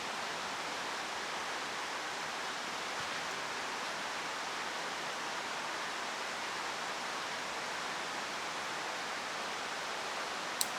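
Steady broadband rush of a creek carrying runoff after rain, continuous and even throughout with no speech, a single faint click near the end.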